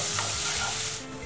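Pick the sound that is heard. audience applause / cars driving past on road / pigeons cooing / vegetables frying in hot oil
vegetables frying in hot oil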